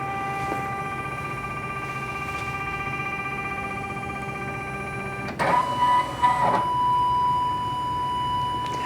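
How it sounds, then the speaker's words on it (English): Baby Lock Venture 10-needle embroidery machine capturing an image of the design, a steady electronic tone and motor hum, then a sudden shift to clunking mechanical movement and a high whine, close and moderately loud. "Now it's going to take a picture of our design."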